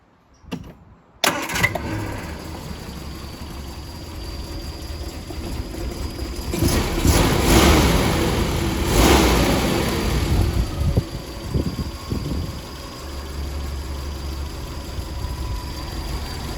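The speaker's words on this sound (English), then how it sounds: "So what we're going to do is now just let the car warm up" A Triumph Spitfire 1500 engine cranks and catches, then settles into a steady, rumbling idle that continues at a moderate level.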